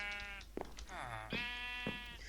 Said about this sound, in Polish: Tutaj mam farmę krów i owiec.